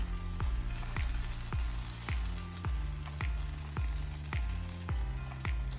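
Lobster roll buns toast on a griddle pan over an open fire, giving a steady close sizzle punctuated by sharp ticks and crackles at a regular half-second pace.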